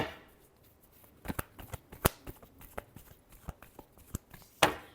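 Tarot cards are shuffled by hand in a quiet room, giving a series of crisp riffling snaps and soft slaps, irregular and close, with a few sharper louder flicks and no talking.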